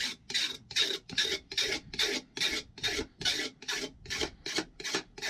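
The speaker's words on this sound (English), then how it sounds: "We'll have your little flat file, the same one that you use to file down your rakers." A flat file rasps back and forth across a chainsaw bar to smooth off burrs: about a dozen steady, evenly spaced metallic strokes, close and clear with no talk.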